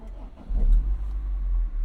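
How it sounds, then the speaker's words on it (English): A manual-transmission car's engine cranks and catches in neutral with the clutch pressed, then settles into a steady, close, low idle rumble. "You're going to start the car with the gear in neutral."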